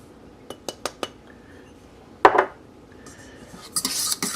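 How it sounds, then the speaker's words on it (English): Chili powder, black pepper, salt and cayenne are stirred together in a bowl, making a few sharp utensil clinks against the dish, a short scraping swirl, then a quick cluster of clinks, close and alone. "Mix them all together."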